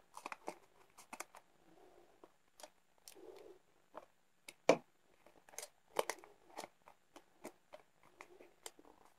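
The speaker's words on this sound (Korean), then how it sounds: "밑면을 가위밥을 살짝 잘라서 엇갈리게 입체로 이렇게 붙여주세요." Scissors make short snipping cuts in paper while a dog-themed cap is crafted in origami, sharp crisp clicks coming in uneven bursts up close with soft rustling of paper between them.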